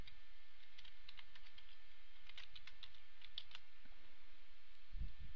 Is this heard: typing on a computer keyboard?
yes